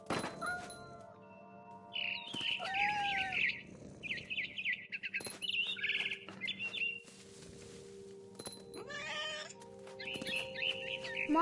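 A cat meows and yowls in the video game What Remains of Edith Finch, its calls mixed with repeated bright bird chirps over a soft ambient background, with no voices.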